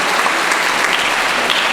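Loud, dense applause from the audience at a New Orleans mayoral candidates' forum, a steady close wash of many hands clapping with no talk over it.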